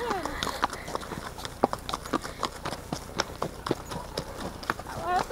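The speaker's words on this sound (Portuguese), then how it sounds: "Os cavalos correndo." Several horses trotting on a group ride, including a mare, hooves clip-clopping in a steady, quick rhythm close by, with people talking over the hoofbeats.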